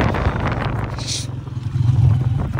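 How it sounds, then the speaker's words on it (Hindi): A motorbike approaching on the road ahead, its engine hum swelling steadily louder over windy outdoor noise, with a brief hiss partway through. "आगे बाइक आ रहा है, ख्याल रखिए।"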